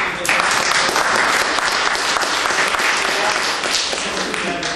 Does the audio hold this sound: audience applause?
yes